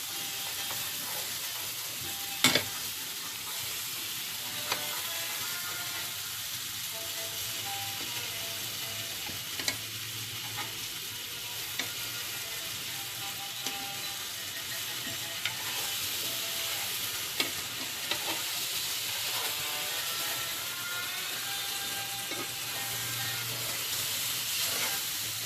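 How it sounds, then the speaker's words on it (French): Food frying in oil in a pan is stirred, with a continuous soft sizzle and hiss and occasional light scrapes and taps of the utensil, fairly faint and steady throughout. "Je les remue comme ça jusqu'à qu'ils donnent la couleur."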